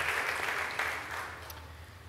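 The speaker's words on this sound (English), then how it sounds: "Let's give them a round of applause for doing that." Church congregation applauding during a Sunday service, a short, soft wash of clapping from a crowd heard at some distance that tapers off quickly.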